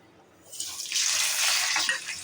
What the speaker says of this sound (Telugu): వేడెక్కినాక ఈ పోపు దినుసులు వేసుకోవాలి.